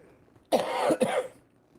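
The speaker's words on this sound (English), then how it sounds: "As you can hear this cough, my lungs are clearing out." Two close harsh coughs in quick succession, loud and near, with no talking.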